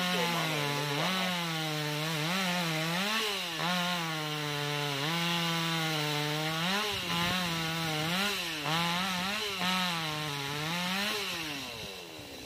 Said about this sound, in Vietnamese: Chú bây giờ đứng đó cưa cái nhánh to nè